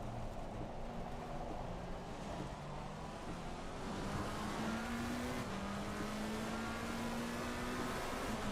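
McLaren race car engine in a sim racing game at wet Suzuka, held at part throttle with a steady drone and slowly rising pitch, continuous and fairly loud with no talk.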